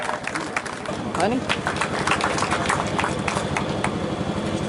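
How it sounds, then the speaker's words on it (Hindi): A crowd at a foundation-stone ceremony in the Nagda agricultural produce market yard claps loudly and steadily to welcome guests, with an amplified voice speaking over the dense applause. "अब मैं कर्तन ध्वनि से स्वागत करेंगे, जोरदार ताली बजाकर"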